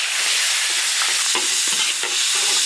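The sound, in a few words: garlic, pickled chili and Sichuan pepper stir-fried in iron wok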